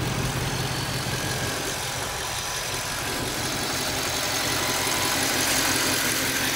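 A 2024 Ford Mustang GT Premium V8 idles steadily, heard from a distance outdoors as a constant low rumble with broad noise, no talk over it.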